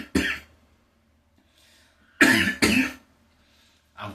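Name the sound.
cough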